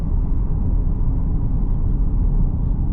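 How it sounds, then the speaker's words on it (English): Mercedes ML63 AMG exhaust rumbling low and steady while pulling away, a deep continuous gurgle with no talking over it. "that exhaust, which even on startup and just driving off, it's so intoxicating. That gurgle,"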